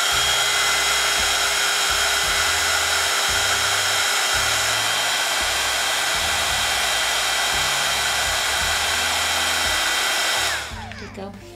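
A hair dryer blasts steadily on craft antlers to dry clay packed into their holes, a loud continuous whirring drone that holds for about ten seconds before cutting off.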